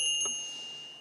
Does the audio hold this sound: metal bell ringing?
yes